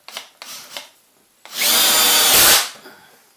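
A Milwaukee combi drill backs screws out of decking: a few light taps, then one loud sustained whirring burst of about a second that cuts off abruptly.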